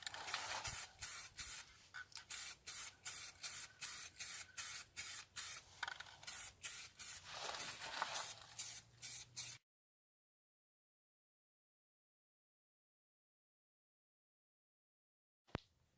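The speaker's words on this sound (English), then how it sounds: "spray the glitter and the urethane on together for maybe one, maybe two coats" Spray gun applying glitter and urethane to a rubber MG Midget bumper, a string of loud, close hissing bursts in steady pulses, then silence apart from one brief click near the end.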